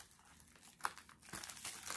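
Close, crackly crinkling of a plastic bag being torn open, with a sharp rip near the middle followed by rustling, in an otherwise quiet room.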